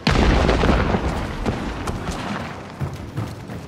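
An explosive barrel blows up in Hunt: Showdown with a loud, close boom that opens the moment and decays into a rumbling, crackling tail, with scattered smaller pops following.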